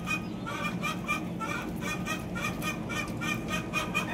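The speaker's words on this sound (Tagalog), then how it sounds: "Ingay ng manok." Chickens squawk and cackle in a rapid series of short repeated calls at a household, fairly quiet and at moderate distance, with faint voices in the background.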